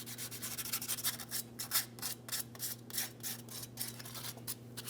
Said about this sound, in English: Just going to use some fine sandpaper.